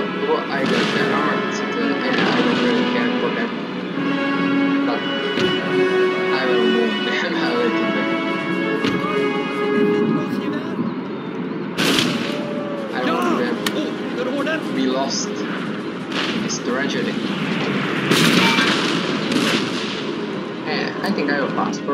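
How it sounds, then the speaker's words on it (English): Artillery fire in the Empire Total War battle game, with repeated cannon blasts and crackling gunfire in a dense battle din, while someone talks over the top throughout. "The only problem is the artillery. And it's destroying most far too quickly."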